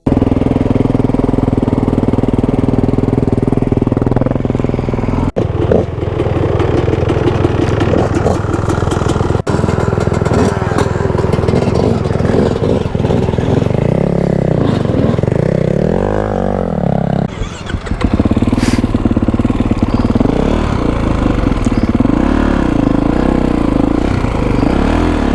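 A Kawasaki KX450X dirt bike engine runs loud and close, a steady idle broken by repeated revs that rise and fall in pitch, with a brief dip near the end.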